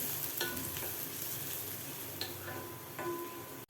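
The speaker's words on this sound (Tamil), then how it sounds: "வெங்காயம் நல்லா வதக்கி விட்டுக்கலாம்" Chopped large onions sautéing in a pan with garlic give a steady close sizzle and fry, broken by a few light scraping stirs of a spatula and a faint tick, with no talking.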